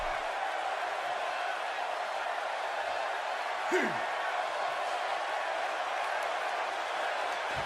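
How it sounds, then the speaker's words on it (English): A wrestling arena crowd cheers through a heavy brawl, a dense, steady roar filling the whole stretch with one brief swooping sound near the middle. "by the sound of this crowd, I think they're getting what they wanted"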